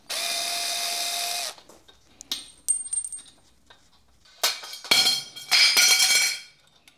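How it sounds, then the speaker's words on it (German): A cordless drill with a bit drives screws into trailer parts during assembly: a steady whirring run, scattered clicks and clatter of parts, then several short, loud bursts of driving. "also Akkuschrauber mit passendem Bit"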